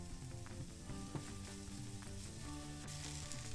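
Chopped onion sweats and sizzles in a hot pan, a steady close frying hiss that holds level for a few seconds with faint stirring clatter and no talk.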